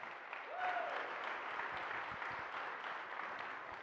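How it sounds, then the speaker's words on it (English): Audience at a Martin Luther King Jr. breakfast applauds with steady, moderately distant clapping that continues without a break. "All right, round of applause again for Frederick Joseph."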